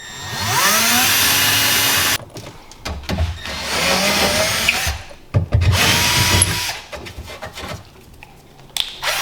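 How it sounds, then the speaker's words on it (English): A power drill whirs loudly in several bursts, spinning up and biting into a Sea-Doo SPX jet ski, with short pauses between each run. "Okay, drill our holes."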